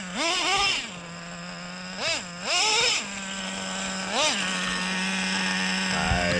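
A Traxxas Slayer nitro RC truck's small engine revs in sharp, rising bursts over a steady buzzing idle, loud and close, with several quick throttle blips.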